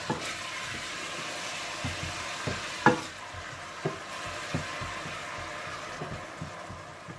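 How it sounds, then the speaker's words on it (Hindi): Ground onion fried in oil: oil crackles and sizzles steadily in a pan, with scattered stirring clicks and a few sharper knocks of a spoon against the pan. "इसमें आप पिसी हुई प्याज डालकर भून लीजिए।"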